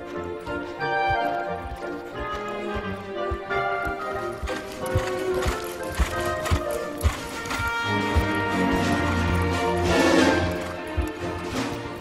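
Hoofbeats of a Lipizzaner stallion performing piaffe and piaffe pirouette in a riding hall, a steady rhythmic clip-clop of close hooves under orchestral music.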